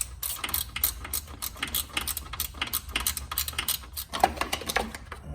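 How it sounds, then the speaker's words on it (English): Rapid metallic ratcheting and clicking from a 10 mm wrench loosening two bolts on a plastic shield during a front-mount intercooler install on a Fiat 124 Spider Abarth; dense, close bursts of ticks run throughout with no talking. "It's going to require a 10 millimeter. I use a wrench for this one."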